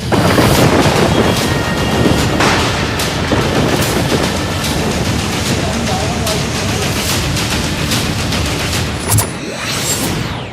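Heavy booming rumbles and cracks over a dense, loud, continuous layer of dramatic sound, like thunder mixed into an intense soundtrack.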